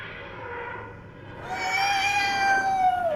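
A cat meows in a drawn-out, rising and falling call that swells louder in the second half, set against a soft background hum with no talking.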